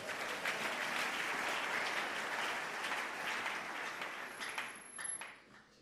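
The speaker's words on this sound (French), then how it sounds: "Acclamons Jésus." A church congregation applauds during a family worship service: dense, sustained clapping from a crowd that thins and fades out in the final second.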